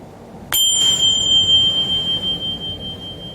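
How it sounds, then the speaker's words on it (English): A small meditation bell is struck once, giving a bright, close ding whose pure ringing tone lingers and slowly fades over a soft background hum. "I'll ring this little bell"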